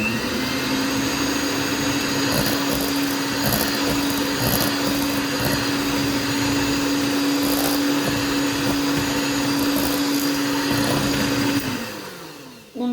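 An electric mixer runs at low speed through cheesecake batter for a San Sebastian cheesecake, a steady motor whine holding one pitch for about eleven seconds before cutting off near the end.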